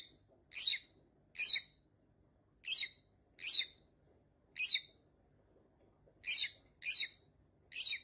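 Small birds chirp in brief, bright, separate calls that fall into a loose turn-taking rhythm with gaps between them. The calls are fairly faint against a quiet background, and no one speaks.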